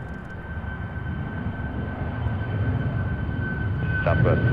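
A jet airliner at Seattle's airport rolling for takeoff bound for Reykjavik, with a loud, building engine roar and a steady whine, voices on a radio breaking in near the end.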